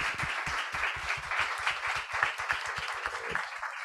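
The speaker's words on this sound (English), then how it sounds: "Please give them a round of applause." A conference audience applauds the panelists at the close of a session: dense, steady clapping with many individual claps, fairly close and sustained for the whole stretch before thinning slightly at the end.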